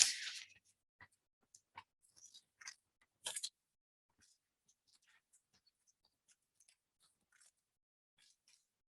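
Scissors cut out a paper picture of the queen, giving a handful of close, crisp snips and crunches in the first few seconds, then only faint scattered clicks in near silence.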